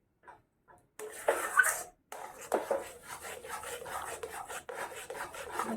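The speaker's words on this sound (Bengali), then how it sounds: "যতক্ষণ একটা মন্ড তৈরি হচ্ছে আমি ততক্ষণ এটাকে নাড়তে থাকবো।" Semolina dough for gulab jamun being stirred in a pan, giving a steady scraping, rasping rub with brief pauses and a few faint knocks, close and continuous once it starts.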